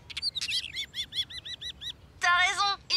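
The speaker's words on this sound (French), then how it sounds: "Ça alors, ce sont des oiseaux. Oui, des oiseaux chanteurs." Songbirds kept as a pair sing a series of bright, rapidly repeated chirps and trills, clear and fairly close, with a denser burst of song near the end and no talk over it.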